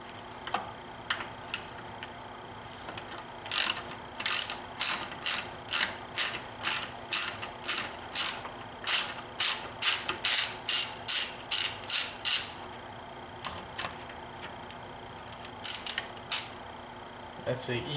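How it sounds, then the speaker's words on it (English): A ratchet wrench clicks while a mechanic removes the two Torx bolts holding the power steering reservoir on a BMW N51/N52 six-cylinder engine, with bursts of rapid ratcheting strokes in a steady rhythm and quieter clicks at the start and end. "I'm going to remove the torx bolts on the reservoir for the power steering"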